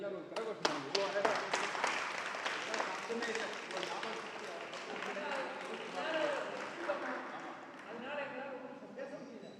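Audience at a Ramayanam recital breaking into applause, scattered sharp claps at first building into a dense, crowded clapping that carries on under murmuring voices.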